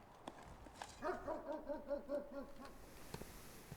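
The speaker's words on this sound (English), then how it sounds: "That dog's a barking." A dog in the Blue Prince game barks in a quick run of about eight to ten yips over roughly a second and a half. The barking is moderately loud and near, and it stands alone without talk.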